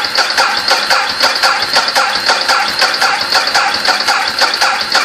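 A motorcycle engine runs after starting off a compact jump starter battery. It makes a loud, close, rapid and steady chugging rattle for the whole stretch, with no talking.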